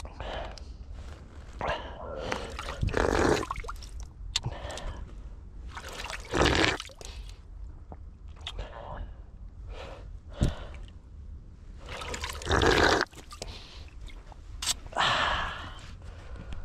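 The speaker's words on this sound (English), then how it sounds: "There's a bunch of water. If you look, it's kind of coming out from under this rock here." Spring water trickles out from under a rock outdoors, heard close as irregular splashes and gurgles in uneven bursts over a quiet background.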